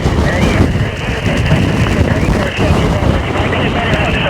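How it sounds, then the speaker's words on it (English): Strong wind buffets the microphone on the summit of Arroo Mountain in Ireland during a portable ham radio session, a loud, continuous roaring rumble that gusts without letup for the whole stretch. "the problem is the wind is so strong here"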